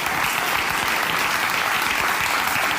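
Steady, full applause fills a comedy talk show studio, with a dense, even clatter of many hands and no pauses.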